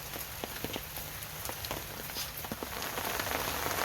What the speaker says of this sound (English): A little bit more rain for you guys.